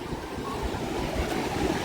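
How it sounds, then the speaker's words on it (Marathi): Continuous rumbling wash of waves from a rough, churning sea with wind buffeting the microphone, steady and fairly close, no voices. "लाटा बघा लाटा निस्ता खवलले समुद्र"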